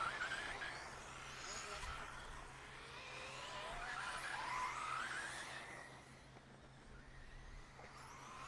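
Electric radio-controlled off-road race cars on a warm-up lap at a state titles meet: faint whining motors rise and fall with scattered tyre skids, mixed with distant voices.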